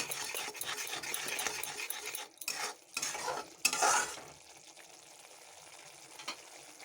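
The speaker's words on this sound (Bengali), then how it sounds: "দিয়ে দিলাম লঙ্কা গুঁড়ো হলুদ গুঁড়ো আর মশলাটা ভালো করে কষে নেব" Masala with chili and turmeric powder being fried and stirred in a pan for a mustard pabda fish dish, a close sizzle broken by scraping strokes in uneven bursts before settling into a quieter simmer, no voices.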